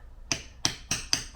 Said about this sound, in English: probably going to tap on it with my hammer a little bit